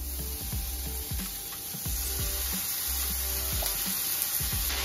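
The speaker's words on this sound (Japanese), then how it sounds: "今日はラム肉焼いていきます" Lamb meat sizzling as it fries in a pan, a steady bright crackle that runs throughout alongside soft scraping and stirring knocks.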